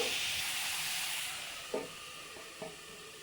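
Carrots steaming in a covered pan while a vegetable chop filling is cooked, giving a steady soft hiss throughout with two brief light knocks near the end.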